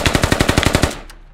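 Rapid automatic gunfire in the military shooter game Squad: a burst of about ten sharp, evenly spaced shots, close and loud, cutting off into a short echoing tail.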